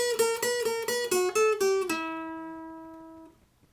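A plucked acoustic guitar phrase: a quick run of distinct picked notes, then a final note ringing out and slowly decaying, played alone.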